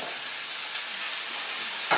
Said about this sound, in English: So as long as you hear this sizzling sound, you're doing something right when you're sauteing.